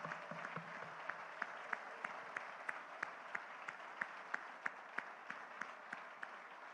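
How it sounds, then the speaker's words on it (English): An audience gives a standing round of applause for a pastor at a platform event in Lagos, with steady, dense clapping from many hands and a few sharper individual claps cutting through, sustained throughout. "join me in giving a very deserving round of applause to Pastor Kojo"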